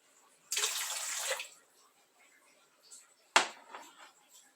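Warm water for homemade bread pours in two short bursts, a longer hissing stream followed by a briefer splash, close and fairly loud in a quiet room.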